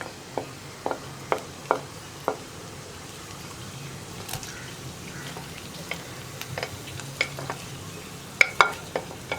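Green chili and onion sizzle softly in a pan with garlic and ginger, steady frying hiss broken by scattered scrapes and clicks of a stirring spoon, close and fairly quiet.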